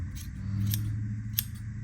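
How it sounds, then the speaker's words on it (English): Scissors snip through loops of long craft strands, three crisp cuts spaced apart, close and clear over quiet background. "then you just take your scissors and you cut the loops"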